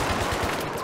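A light machine gun fires a rapid, loud burst of closely spaced shots in the video game Battlefield 3, amid a dense, continuous roar.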